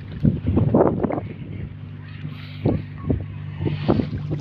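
Strong wind blowing over the Jamuna river during a pangas fishing trip, a steady broadband rush with gusts, mixed with a low droning hum, as if from a boat motor, and bursts of nearby voices.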